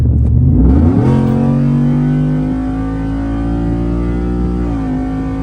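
A 2023 Ford F-150 crew cab with the 5.0 V8 and 10-speed automatic, running E85 with full bolt-ons, pulls hard in a roll from 60 mph, its engine note rising steadily and loud and close, with no talk over it.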